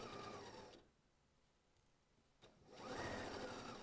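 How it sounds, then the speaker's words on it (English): A sewing machine topstitches a pocket bag seam on pajama pants, running in two close, steady bursts separated by a quiet pause, with no talking. "we're going to top stitch onto the pocket bag to keep that seam allowance in place."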